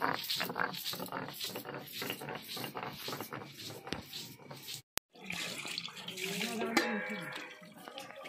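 Water runs steadily from a tap while fish is rinsed and washed by hand, splashing and clattering for several seconds with a brief break midway, under background voices.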